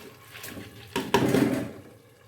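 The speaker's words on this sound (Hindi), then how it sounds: "अभी थोड़ा सा पानी से लगाएंगे और दाल डाल देंगे।" Water is poured into a cooker of masala for moong dal, a short splashing pour that starts abruptly and swells briefly before fading, with a few light clinks of a pot.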